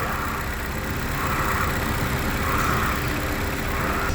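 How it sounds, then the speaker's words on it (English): A 2019 Honda Civic engine idles steadily with the hood open, a close, even, continuous hum with no talking. "Shot of the motor with the motor running."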